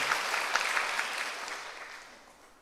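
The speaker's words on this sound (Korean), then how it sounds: "이번 토요일 날 잘하라고 우리 격려 박수 먼저 미리 하겠습니다." Church congregation clapping together in a burst of encouraging applause, dense and fairly loud at first, then gradually thinning and fading out over a couple of seconds.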